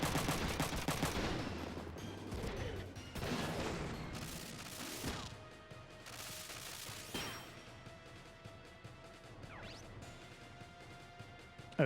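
A video game fight breaks out in rapid gunfire: bursts of shots and sharp impacts crowd the first seconds, then thin out into scattered single cracks over a lingering electronic tone.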